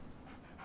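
Dogmeat, the dog from Fallout 3, pants in short, quick, quiet breaths for a brief moment.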